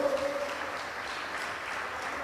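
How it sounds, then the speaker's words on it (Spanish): A church congregation clapping for the Lord during a Spanish-language sermon, a dense ongoing patter of many hands in a reverberant hall, steady and fairly loud with no talk over it. "dele fuerte palmas al Señor"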